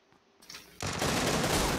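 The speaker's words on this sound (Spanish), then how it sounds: "Le disparo primero." Rapid automatic gunfire in a video game erupts suddenly after a faint lead-in, a dense continuous burst of shots that stays loud to the end, with no talk over it.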